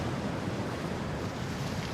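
Ocean waves break on the west coast of Ireland, a continuous loud roaring wash of surf with some wind buffeting, close and dense, no voices.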